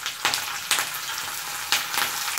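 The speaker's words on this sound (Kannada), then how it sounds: "ಉದ್ದಿನಬೇಳೆ ಚೆನ್ನಾಗಿ ಹುರ್ಕೊಳ್ಳಿ. ಇದಾದ ನಂತರ ಕರಿಬೇವನ್ನು ಹಾಕಿ" Urad dal and curry leaves fry in hot oil for upma, producing a bright sizzle that surges in several quick bursts over a brief, continuous crackle.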